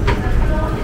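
A Hong Kong subway train rumbles through a station, a loud, steady low roar with a brief squeal at the start. Voices are faintly present.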